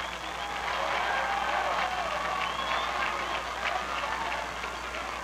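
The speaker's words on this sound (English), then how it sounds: "The crowd is going wild." A high school football crowd at a Coldspring Trojans game cheers steadily after a touchdown, a broad continuous roar of voices and applause heard from a distance without a break.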